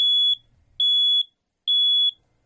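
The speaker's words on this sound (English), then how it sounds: "A working smoke alarm can warn you of a fire in seconds" Three loud, high-pitched smoke alarm test beeps, evenly spaced and each about half a second long, with silence between.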